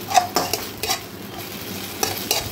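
Ginger garlic paste and softened tomato are sautéed in a pan, with a quiet sizzle broken by several sharp spatula scrapes and taps in uneven bursts, close up and with no talking.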